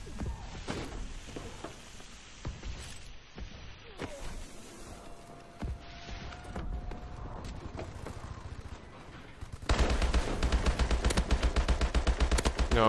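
Gunfire in the video game Advanced Warfare: scattered single shots, then a dense, loud burst of rapid automatic fire near the end, over a busy game soundscape.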